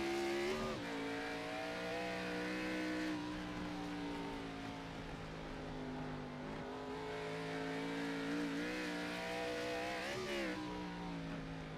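An iRacing race car engine drones steadily at high revs throughout, rising and falling in pitch with brief surges over a jump, loud and close, with no voices.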